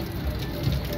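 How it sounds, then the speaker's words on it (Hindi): Heavy rain pours down outdoors during a meal, a steady broadband hiss of drops spattering on surfaces, close and continuous for the whole moment with no talking. "मैं जब रोटियां लेके आ रहा था तभी बूंदाबांदी स्टार्ट हो गई थी, लेकिन अब थोड़ी तेज़ हो गई है, फवार से भी ज़्यादा तेज़।"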